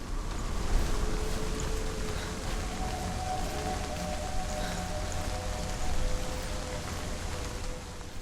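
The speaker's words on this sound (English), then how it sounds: "That is a pretty good rain effect." Constant rain noise in Hellblade: Senua's Sacrifice, a dense even hiss layered with wind and low rumble, plus faint drawn-out tonal hums, with no talking.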